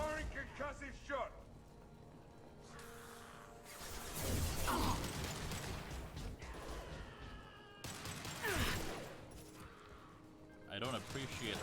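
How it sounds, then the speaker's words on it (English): Concussive shot fired in the video game Mass Effect 2: a sharp burst of impact and crash-like effects over busy combat noise, with voices talking through much of it. "Firing concussive shot."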